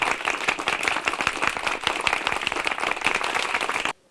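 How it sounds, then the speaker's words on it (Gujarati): Sustained applause from an audience at a student felicitation ceremony honoring an achievement, dense steady clapping filling the room for about four seconds before stopping abruptly. "ખૂબ ખૂબ તાળીઓના ગડગડાટથી આપણે એમની સિદ્ધિને બિરદાવશું."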